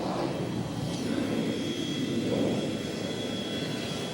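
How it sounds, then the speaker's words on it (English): A jet airplane lands at the airport during coverage of Hubert Humphrey's funeral in January 1978, a steady broad engine roar with a rising whine, loud and continuous with no speech. "A jet has just landed"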